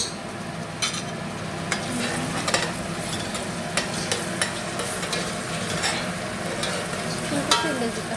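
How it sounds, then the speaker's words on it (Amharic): Onions frying in a pan with garlic, a loud continuous sizzle up close, broken by scraping clicks and knocks as a utensil stirs them. "ሽንኩርቴን አበስላለሁ"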